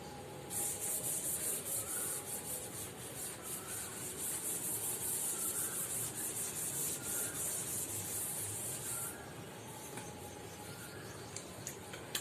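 Writing being rubbed off a classroom board in a maths lesson, a steady scratchy wiping that runs for about nine seconds in quick back-and-forth strokes, close and alone, then fades to quiet.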